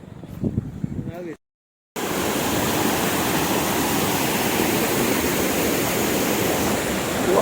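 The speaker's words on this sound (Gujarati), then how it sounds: "તો અમારા પીપલાનો નેરો છે કેવું મસ્ત જાય છે" A swollen stream rushes steadily after heavy rain, a loud, continuous broadband roar of flowing water that follows a brief opening of talk and a short silent gap.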